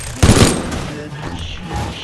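Burst of video game gunfire in a Skibidi Toilet game, a loud rapid volley at the start followed by fainter rumbling and shots, with a voice heard briefly.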